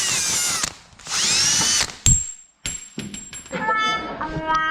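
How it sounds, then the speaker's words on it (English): A power tool spins a polishing wheel or Scotch-Brite ball against a dull metal radiator hose for a Supra build, running in short loud bursts with whirring and abrupt stops, close up. "Watch what happened after I hit it with this polishing wheel or this ball of Scotch-Brite."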